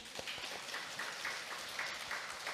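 An audience at a Won Buddhist dharma talk on chanting practice breaks into steady applause, a dense wash of many hands clapping close by with scattered sharper claps, continuing evenly throughout.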